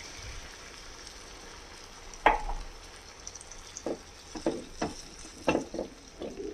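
Hot water poured into fried tomatoes in a pan while cooking Patiala chicken, giving a short loud sizzle burst followed by several sharp hissing spurts and stirring clatters over a low steady frying background.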